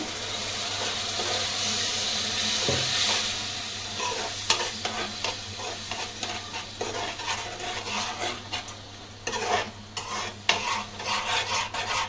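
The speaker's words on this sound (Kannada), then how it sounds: "ಚೆನ್ನಾಗಿ ಮಿಕ್ಸ್ ಮಾಡ್ಕೊಳ್ಳೋಣ" A spoon works a masala mixture into fish sambar in a pot, giving repeated scraping and stirring strokes over a soft background sizzle, loud and close with an irregular rhythm.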